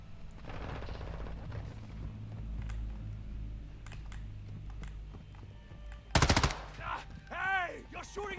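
Video game gunfire crackles in several bursts of rapid shots against a busy background of game sounds, with one loud burst near the end.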